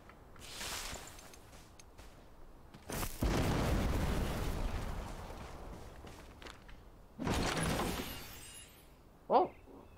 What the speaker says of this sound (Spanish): Bastante meh la explosión, la verdad.